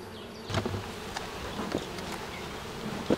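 Bees buzz close by, a steady hum with individual insects droning past, fairly quiet and with no voices.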